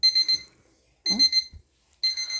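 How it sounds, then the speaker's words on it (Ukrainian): A kitchen timer beeps in three short bursts of rapid, high-pitched ringing separated by brief pauses, with a faint clatter between the first two. "Це ось мій будильник, що потрібно, не будильник, а таймер"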